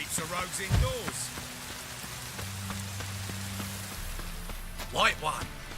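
Steady rainfall in The Witcher 3: Wild Hunt hisses softly throughout, beneath low droning game ambience and a few brief louder rustles.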